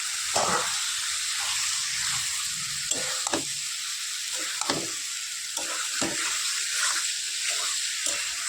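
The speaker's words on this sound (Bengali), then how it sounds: "চলো এবার চপাত করে মাছগুলো দিয়ে দিই।" Steady loud sizzle of fish, Bengali-style, hitting hot oil with spices in a pan, broad hiss running throughout with scattered stirring clinks and scrapes.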